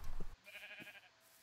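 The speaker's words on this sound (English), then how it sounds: "Is that a sheep in the water?" In a Minecraft game, a sheep gives a short wavering bleat after a brief burst of noise, clear and fairly quiet.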